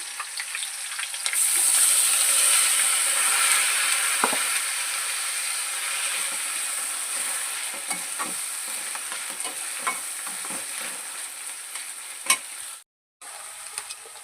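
Green chilies sizzle and fry in oil left over from frying fish, a steady loud crackle with occasional stirring clinks and scrapes, no talking.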